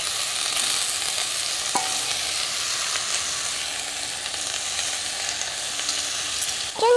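Susni greens dropped into onions frying in hot oil, with a steady loud sizzle and hiss throughout, a brief stirring clink, and a louder burst of sizzling at the very end.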